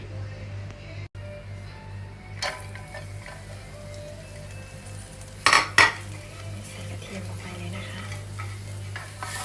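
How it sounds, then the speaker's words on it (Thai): Garlic fries in oil in a pan before Thai liang leaves are stir-fried with egg, a low continuous sizzle with a couple of sharp utensil clinks midway, close up and fairly quiet. "เดี๋ยวเราจะ เจียวกระเทียมก่อนนะคะ"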